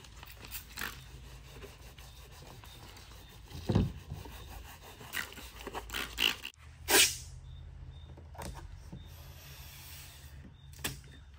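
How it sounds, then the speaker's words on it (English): A clay bar is rubbed across a car's clear coat to lift contamination before polishing. Soft, close scrubbing strokes come in irregular bursts over a quiet background, with no talk. "what the clay bar does is it removes all the contamination from the clear coat"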